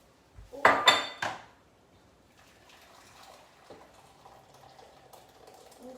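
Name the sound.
spoon mixing mousse with boiling water in bowl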